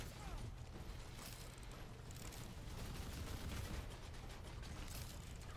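Gunfire aimed at the player in the video game Random Heroes, a dense, continuous burst of rapid shots and booms that stays fairly loud throughout with no clear breaks.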